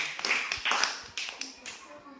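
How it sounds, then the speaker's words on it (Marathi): Schoolchildren in a Zilla Parishad school class clap their hands in a few quick, soft bursts of sharp taps, faint and slightly distant, with a voice speaking lightly underneath. "टाळ्या वाजवा रे छान"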